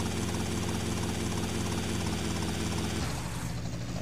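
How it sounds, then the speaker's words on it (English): Helicopter in the game Grand Theft Auto Vice City, a steady loud rotor and engine drone with throbbing low pulses that drops off and thins out near the end, with no talking. "Oh crap, we need this helicopter."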